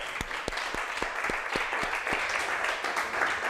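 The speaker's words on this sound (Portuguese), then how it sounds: "Você pode dar um aplauso ao Senhor" Applause from a church class audience, a steady crowd wash with several sharp, distinct claps close by in an uneven rhythm near the start.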